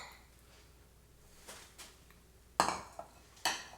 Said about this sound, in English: so now let's go serve up the chili I just made